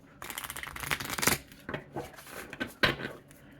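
A deck of Arcana Folia oracle cards is shuffled in several quick riffling bursts, close and fairly soft, with short pauses between them.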